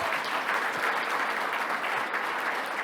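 Audience applause rings out for the Lord Mayor, a thick, continuous patter of many hands clapping at steady volume from start to finish, with no speech over it.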